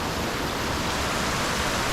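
A forest stream runs along the trail up to Lan Rak waterfall in Nakhon Nayok, Thailand, giving a close, steady, even rush of flowing water with no voices.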